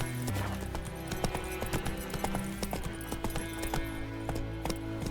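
Roach the horse's hooves clip-clop steadily in The Witcher 3 video game, with close, rhythmic hoofbeats over a layered game soundtrack.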